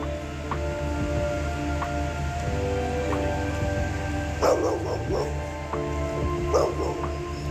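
A dog behind a gate gives short yips and whimpering barks while a child teases it, the louder bursts coming near the end over a steady low background hum.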